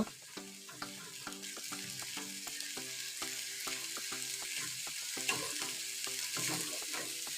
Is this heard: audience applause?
no